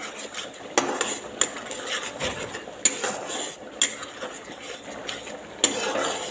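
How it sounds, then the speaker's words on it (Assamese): Fish with salt and turmeric is stir-fried in a pan, a metal spatula clinking and scraping against the pan in irregular sharp taps over a soft steady sizzle. "নিমখ আৰু হালধিখিনি দিয়াৰ পিছত এতিয়া এনেদৰে লৰাই ভাজি আছোঁ।"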